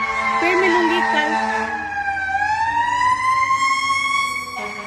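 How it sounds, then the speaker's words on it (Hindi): A fire engine siren wails loudly as the truck passes nearby on a city street, its rising and falling tone sweeping continuously over several seconds with a clear pitch drop as it goes by, traffic rumbling underneath. "फायर ब्रिगेड गई है।"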